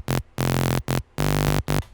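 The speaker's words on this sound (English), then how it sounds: "Then what I'm doing is putting it through some distortion, which right away is going to give it that grittiness." Colour bass of saw waves and white noise pushed through distortion, sounding gritty and harsh, with loud chopped notes of varying length separated by brief silences, alone without talk.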